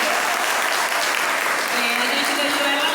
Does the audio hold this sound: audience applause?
yes